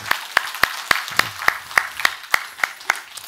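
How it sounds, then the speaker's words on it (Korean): Church congregation clapping in a slow, even rhythm, a dozen or so sharp, distinct claps spaced about a third of a second apart, fairly close, with faint murmuring beneath. "박수 한번 해요 정말."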